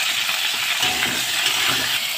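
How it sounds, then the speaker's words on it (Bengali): Flat beans fry in oil in a pan, giving a steady, even hiss of sizzling with no voices over it. "সিমগুলো একটু ভেজে নেব।"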